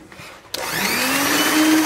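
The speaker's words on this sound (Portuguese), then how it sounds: "vamos colocar agora a gema. E vamos bater mais 5 minutinhos." An electric mixer whirs steadily as it beats egg whites and yolks together for an omelette, starting abruptly after a brief quiet moment and holding a loud, continuous drone that rises slightly in pitch.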